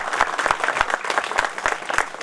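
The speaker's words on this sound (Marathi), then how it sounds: "सर्वांनी टाळ्या वाजवून त्यांनी स्वागत करा." Audience applause at a Seva Foundation Akola school program in 2023, a steady crowd clapping close and loud with sharp individual claps standing out throughout.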